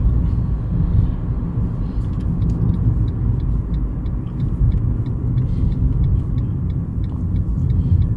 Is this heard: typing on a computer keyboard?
no